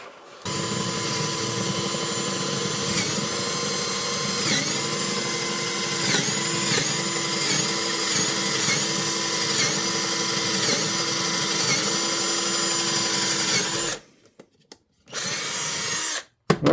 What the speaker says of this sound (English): it's got enough power to go through a bench top